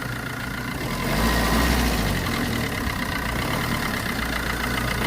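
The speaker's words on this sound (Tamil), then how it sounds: "டாட்டாவில் ரொம்ப ஃபேமஸான இன்ஜின்" A Tata car's engine idles and then revs, a loud, close rumble that swells briefly before settling back into a steady hum, with no talking over it.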